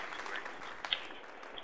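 Short burst of audience applause dropped into a gaming podcast, a steady patter of many hands clapping at moderate level, heard alone without talk.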